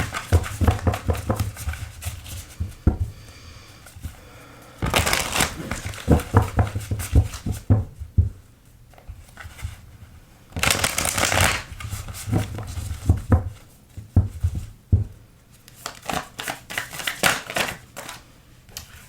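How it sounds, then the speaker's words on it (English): Tarot cards handled, shuffled and laid out during a reading, with repeated close riffling and flicking bursts and soft slaps of cards on a surface, no talking. "I'm just going to lay the cards out and let them tell us the story"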